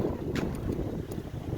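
Gusty wind buffets a microphone outdoors in a shaded spot, a low rumbling roar with a couple of brief hissy bursts, no talk.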